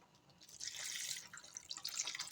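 Water poured into a jar holding beef bouillon and leftover sauce, a faint, soft splashing trickle running for about two seconds with small drips at the end.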